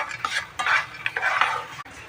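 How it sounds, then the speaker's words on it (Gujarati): Metal spoon scraping and stirring in a pan, with soft rattling of dry fox nuts being roasted and tossed, several bursts over a couple of seconds, close and moderately loud. "બરાબર મિક્સ કરી લઈશું, શેકી લઈશું।"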